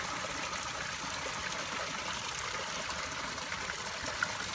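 A backyard rock garden waterfall and stream flows steadily, a constant close trickling and splashing wash with no pauses and no voices.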